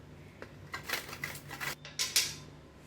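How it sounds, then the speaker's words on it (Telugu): Dried coconut half scraped against a hand grater, giving a run of short, crisp rasping strokes that grow louder and sharper toward the end, close by with no talk. "దీంతో ఈ కొబ్బరి చిప్పని ఇలాగా తురుముకుందాం"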